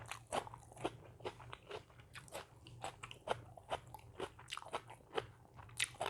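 Crunchy food, eaten with a Thai Isan-style eggplant soup, is bitten and chewed close up, a steady series of crisp crunches and crackles in an even rhythm.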